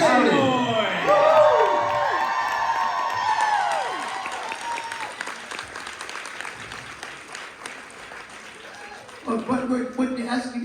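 A live audience claps and cheers loudly for two guests at a fan event, with whoops and shouts over dense applause that slowly thins out before voices come in near the end.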